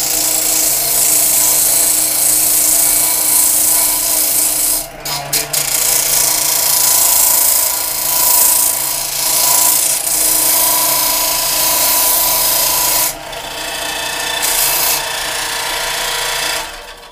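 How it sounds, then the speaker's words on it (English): A belt sander runs steadily and loudly while rounding the edge of an archery arrow rest, with brief dips in pitch around five and thirteen seconds as the workpiece is pressed against the belt. "And then I just turn on my belt sander like this, like that."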